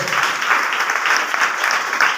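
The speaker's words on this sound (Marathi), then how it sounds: "त्याच्यासाठी मला वाटतं एक जोरदार टाळ्या वाजवतो" An audience at a study-centre talk in Kolhapur claps together in a dense, steady round of applause, fairly close and loud throughout.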